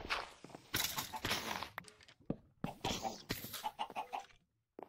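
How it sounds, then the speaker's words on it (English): Chickens in the Minecraft video game cluck in short, scattered bursts, mixed with footstep-like clicks and game sounds at low volume. "I'm gonna move my chickens too."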